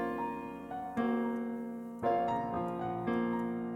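Piano chords are pitch-shifted back to their original key through sound shifter plugins, giving a dense, smeared tone with three struck attacks about a second apart, moderately loud and without any voice.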